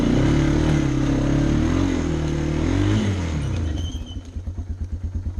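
An ATV engine drives along a wooded trail, a steady mid-pitched drone with shifting revs, then settling into a slower, pulsing idle-like chug near the end.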